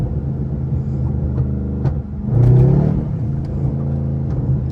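Straight-piped Pontiac G8 GT engine rumbling loudly from inside the car while it slides through a turn, with a sharp rev swelling midway and then settling back into a deep burbling idle.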